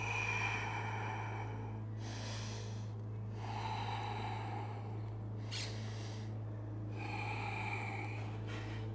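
Several deep, forceful breaths come at intervals over a steady low hum during a power yoga class, each one a distinct rushing exhale or inhale with no talking.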